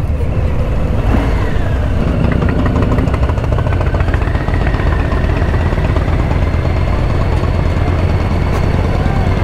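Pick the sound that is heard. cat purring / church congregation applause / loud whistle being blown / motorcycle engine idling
motorcycle engine idling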